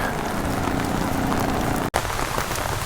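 Heavy rain from a super typhoon in Moalboal, Philippines, pours steadily in a dense, hissing patter on surfaces nearby, with a brief sharp crackle partway through.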